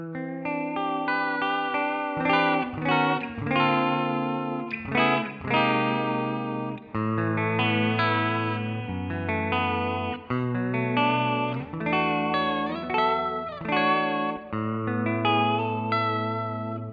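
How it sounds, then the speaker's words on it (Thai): A NUX Mighty Lite BT MKII mini guitar amp with its vibrato effect on plays wavering, pitch-bending guitar notes and chords, loud and continuous, with no talking. "เอาแบบไอ้นี่ไหมไวบาโต้ฟึบเพี้ยนแน่นอนเพราะเป็นไวบาโต้"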